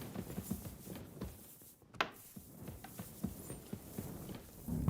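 Horse hooves clip-clop in a steady walking rhythm on a hard surface in the medieval game Kingdom Come Deliverance 2, moderately close and moderately loud, alone without talk.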